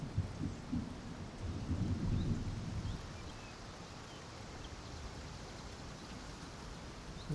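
A stormy rumble in Fortnite or Death Stranding: a deep thunder roll fades after a few seconds into continuous hissing rain-like noise, fairly loud and steady.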